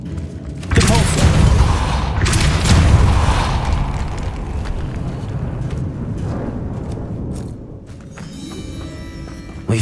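Repulsor spell blasts in Hogwarts Legacy, a loud booming burst that rumbles and decays over several seconds with creaking, mechanical debris sounds, ending in a brief metallic shimmer.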